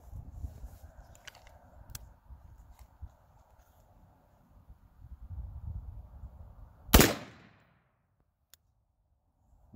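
A single loud gunshot from an AR pistol with a 10.5-inch barrel, fired at a Level III armor plate, cracks out sharply after a stretch of low outdoor rumble, then fades quickly into near silence.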